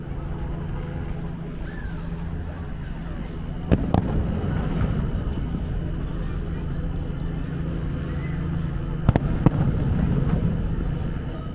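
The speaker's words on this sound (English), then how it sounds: "It's time to watch Epcot fireworks from the resort." Distant Epcot fireworks at Walt Disney World, heard from a resort, rumble continuously, with a few sharp bangs standing out, beneath a faint background hum.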